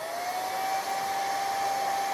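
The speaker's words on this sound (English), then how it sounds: "I am going to touch it with the blow dryer really quick," A handheld blow dryer runs in a short burst, a steady airy whoosh with a thin whining motor tone held level throughout, close and fairly loud.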